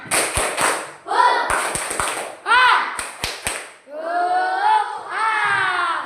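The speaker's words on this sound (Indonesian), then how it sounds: "Ayo, tepuk semangat." In a classroom, students follow the teacher in the tepuk semangat chant, sharp rhythmic claps in quick groups alternating with chanted, sung-out voices, all close and lively.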